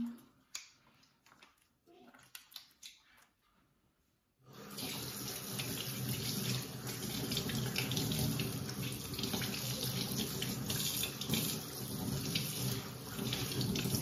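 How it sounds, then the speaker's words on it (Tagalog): A tap runs into a sink during handwashing, starting abruptly after a few seconds of quiet household clicks and continuing as a loud, steady, close rush of water to the end. "Hugas tayo ng kamay."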